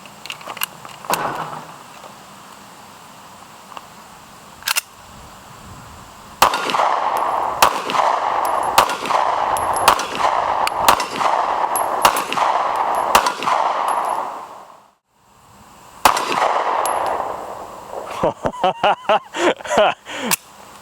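A Remington R51 pistol fires sharp single shots, spaced irregularly, mixed with metallic clanks; at the end comes a quicker cluster of reports. Voices talk between the shots, and the background hisses loudly, as on an outdoor range.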